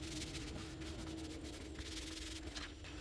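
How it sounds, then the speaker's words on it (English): Paper on a hardcover notepad is burnished with a tool, giving a very faint, soft, continuous rubbing and scraping close up, with no talking. "Just going to burnish it well and try to straighten it"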